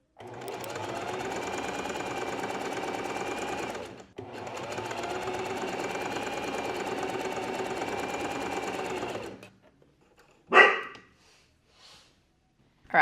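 A sewing machine stitches a linen pocket on linen trousers, running steadily and close for about four seconds, stopping briefly, then running again for about five more seconds before going quiet; a few soft handling sounds follow.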